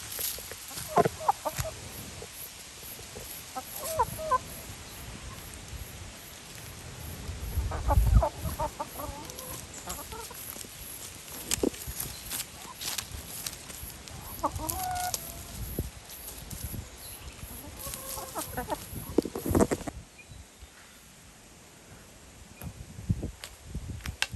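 Free-range backyard chickens cluck and fuss near a coop, with intermittent calls over a steady outdoor background, at moderate distance, for about twenty seconds and with no talking.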